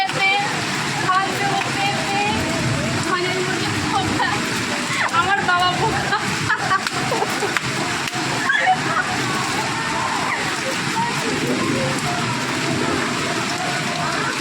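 Heavy rain pours with wind, a constant loud hiss and splatter close by. Voices talk over the downpour.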